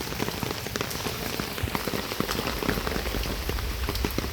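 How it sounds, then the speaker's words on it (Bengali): Heavy rain pours down in a dense, constant patter of drops drumming on surfaces close by, steady throughout with no voices. "এবার যে এত বৃষ্টি পাবো আসলে ভাবিনি"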